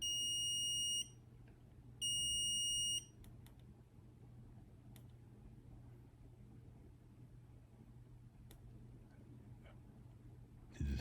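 A homemade Geiger counter kit sounds its danger-level alarm as two long, shrill electronic beeps about a second each, followed by scattered faint clicks over a low background hum.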